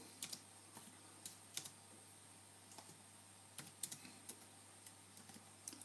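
Keys are tapped on a computer keyboard in sparse, quiet clicks and short runs, close up over a faint steady hum, with no voices.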